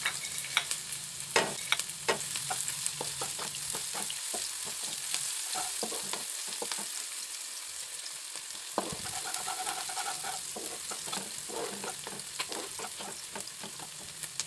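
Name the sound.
onions frying and being stirred in oil in a wok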